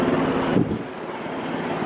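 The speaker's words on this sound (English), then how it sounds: "Coast Guard helicopter" A Coast Guard helicopter flies overhead near Sitka, Alaska, giving a steady, broad rotor-and-engine rumble that holds at an even level throughout, with no talk.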